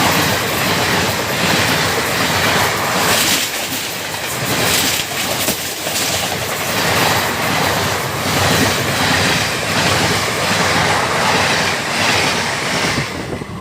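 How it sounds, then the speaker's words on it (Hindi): A Ballia–Sealdah Express passes close by at the outer of Sonpur Junction, a loud, continuous roar of rumbling wheels and rattling coaches that never lets up. "सोनपुर जंक्शन के आउटर पे अब हमारी ट्रेन को ओवरटेक कर रही है बलिया सियालदह"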